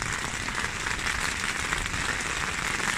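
Rain patters steadily on a tent fly sheet at a campsite in Suan Sawan, Phu Thap Boek, a dense, even hiss of drops close overhead with no pauses.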